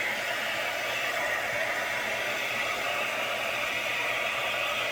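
A L'ange multi-tool hot air brush blows steadily while styling hair, a constant close whooshing hiss with no break and no talking.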